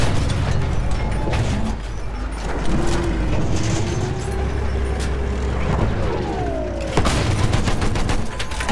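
Machine gun fire in Battlefield 1, sustained bursts of gunfire crackling over rumbling vehicle engines and mechanical noise, with a sharp loud volley near the end and battle sounds throughout.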